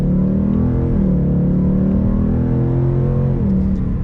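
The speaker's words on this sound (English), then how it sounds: "we are setting off now in the GT Mustang." A 2022 Ford Mustang GT Premium coupe pulls away with a steady, loud engine drone that rises through the gears, with a brief dip as it shifts near the start.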